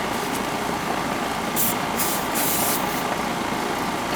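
Refrigerant gas hissing into a car air-conditioning system on a hot day, a loud steady broadband rush that holds through the clip with brief brighter spurts, no talk.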